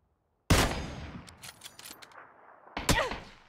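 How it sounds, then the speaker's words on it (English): Gunfire in the video game PUBG, a sudden loud shot followed by a scattering of quicker, fainter cracks, then a second strong burst near the end, set against near silence. "Where are you shooting from?"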